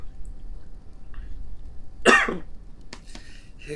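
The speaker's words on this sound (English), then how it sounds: "Hiccups and coughs." A single sharp cough lands mid-clip over a low background hum while someone plays a game, followed by a couple of small clicks.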